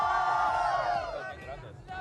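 A loud, excited crowd of Valorant esports fans roars and cheers in an arena, a dense sustained wall of voices that swells and then eases slightly, heard close and without a single clear talker.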